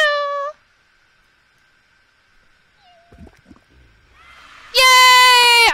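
The LOL kitty cat in the video game Little Inferno meowing: a short loud meow, a quiet stretch with faint clatter, then a long loud drawn-out meow close up.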